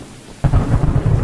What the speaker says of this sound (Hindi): एक तरह बारिश क्यों इतनी स्टार्ट है यार।